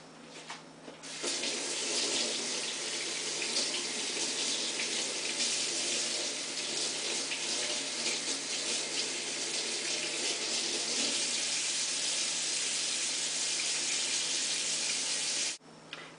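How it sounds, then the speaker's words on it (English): Tap water runs steadily into a sink over a popsicle mold to loosen it, a close, continuous gushing stream that holds for about fifteen seconds before cutting off. "I just finished running water"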